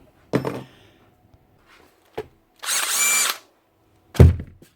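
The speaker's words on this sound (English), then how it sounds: "Drill them out." A power drill works at bolts held fast with Loctite, giving a short burst, a brief whir, then a longer sustained high run, separated by silences and ending with a heavy thump.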